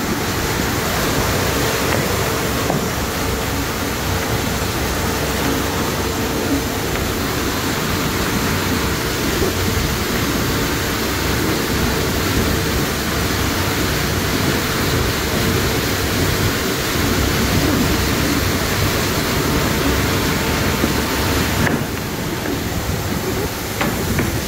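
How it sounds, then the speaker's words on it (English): Oilfield tank in North Dakota filling with a mix of mud, oil and water, giving a steady, loud rushing wash that holds without a break, under gusting outdoor wind. "Your second batch of mud and oil and water is filling up."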